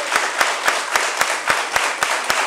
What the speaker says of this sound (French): Levons-nous pour applaudir la Fédération guinéenne de basketball.